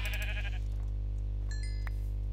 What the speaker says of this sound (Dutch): er zijn hier 2 schapen